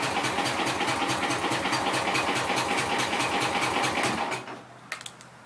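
A tractor engine on a cold start with the throttle open runs loud and close with a steady rapid chug, then drops away near the end to a quieter rumble and a couple of knocks.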